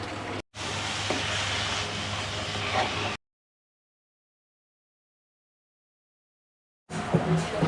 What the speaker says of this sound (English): Veggies fried, rice fried, eggs going in, getting that nice scramble on